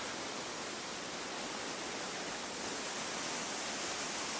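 Steady, dense rush of river water flowing below a waterfall, loud and close, with no breaks across the whole stretch and no voices.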